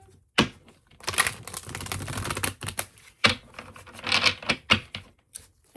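Tarot cards riffled and shuffled by hand in repeated crisp, papery bursts with short pauses between, close and fairly loud with no voice over them.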